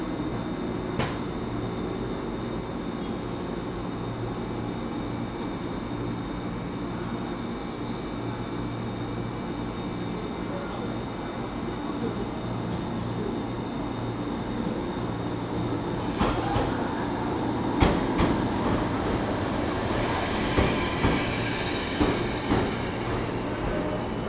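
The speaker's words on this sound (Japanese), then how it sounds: "2番線の方ご注意ください。 電車到着しています。" A 183 series electric train rumbles steadily arriving alongside platform 2 at Higashi-Kanagawa, with clattering wheels and scattered sharp clicks and bangs growing louder toward the end; no talking.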